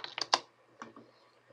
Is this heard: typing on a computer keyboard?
yes